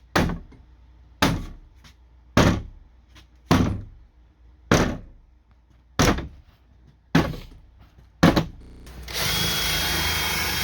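A power drill bites in short repeated bursts, seven or so evenly spaced grinding pulses, drilling out wooden dowels holding the bridge of a Steinway grand piano, followed by a steadier whirring run at the end.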